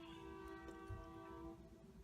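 A train horn sounds during a road trip between Bend and Bend, holding a steady, moderately loud tone with layered harmonics for about two seconds over low road and engine rumble.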